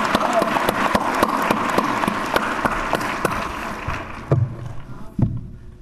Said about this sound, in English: Let's give that choir another wonderful round of applause.